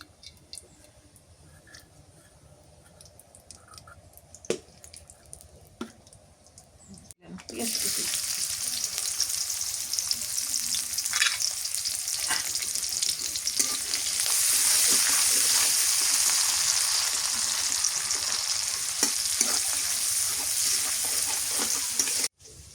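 Mustard oil sizzles and hisses in a pan as ingredients hit it, a sudden loud burst of frying that then holds as a steady, dense crackle with occasional stirring clinks; quieter kitchen sounds come first.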